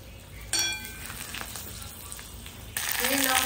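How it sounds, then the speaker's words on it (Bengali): Spices sizzle in hot oil in a kadai as khichuri is tempered, with bursts of loud frying hiss at the start and again toward the end, over a lower bed of background noise. "ফোড়ন দিচ্ছে"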